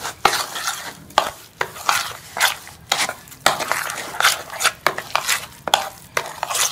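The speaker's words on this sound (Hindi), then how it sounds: "अब हम इसको अच्छी तरह से मिक्स कर लेंगे सूजी को दही के साथ" A spoon stirs semolina and yogurt in a bowl, mixing batter for dahi bhalla, with wet scraping strokes in a steady, fairly loud rhythm of about a dozen close pulls.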